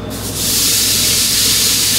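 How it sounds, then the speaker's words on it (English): Loud, steady sizzling hiss of a burger cooking on a hot griddle, close up and continuous, with no talking. "Now hear that sizzle?"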